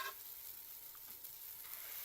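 Chocolate chip buttermilk pancakes sizzle in butter in a pan, a steady, soft hiss of frying with faint crackles, no voices.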